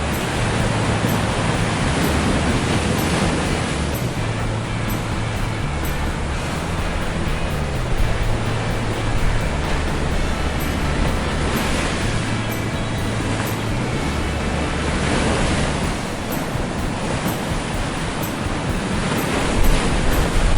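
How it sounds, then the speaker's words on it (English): Huge tsunami waves rush toward the shore in a loud, unbroken roaring wash of surf and water, steady throughout with a low rumble underneath and no voices. "the huge waves are rushing towards the shore like they're playing hide and seek with the land"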